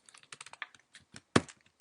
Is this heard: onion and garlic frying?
no